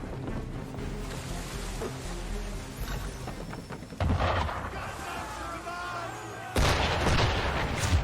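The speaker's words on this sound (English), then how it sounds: "Why is he shooting at us?" Gunfire in the Assassin's Creed III video game, near the water: two loud, abrupt shots a couple of seconds apart, breaking through a steady background of lapping water and ambient noise.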